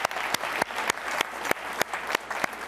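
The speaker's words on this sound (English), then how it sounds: "let's give a round of applause for Carmen for coming up here." An audience in a talk or presentation hall gives steady, dense applause throughout, with sharper individual claps standing out at regular points, moderately loud and unbroken by talk.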